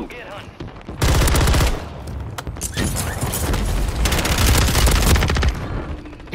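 Heavy automatic gunfire in Call of Duty Warzone on Rebirth Island, loud rapid bursts nearly filling the clip, with a brief pause between volleys and faint voices mixed in.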